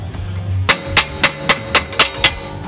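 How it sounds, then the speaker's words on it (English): Hammer blows on a part of a rebuilt Toyota GR Supra, eight sharp metallic strikes in a steady rhythm, loud and close, with no talking. "I hit it with the hammer."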